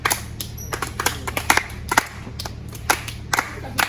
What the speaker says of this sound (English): Have we forgotten how to clap?